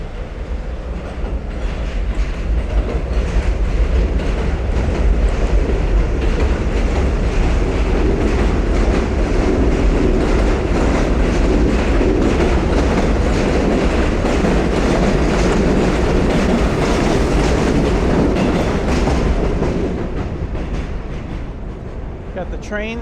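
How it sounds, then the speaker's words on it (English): A train rumbles past overhead on elevated tracks in Brooklyn, New York, for most of the clip, loud and sustained with rhythmic clatter, building in and fading out near the end. "Got the train that just passed over."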